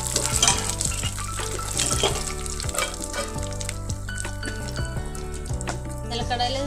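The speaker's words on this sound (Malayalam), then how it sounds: "ഇനി അടുത്തായി നമ്മൾ എടുത്തു വെച്ചിട്ടുള്ള നിലക്കടല നമ്മളിതുപോലെ ഇതുപോലെ ഒന്ന് വറുത്തെടുക്കുകയാണ്" Peanuts are dry-roasted in a pan, a steady rattling, scraping clatter as they are stirred and shuffled, close and continuous, with faint background music.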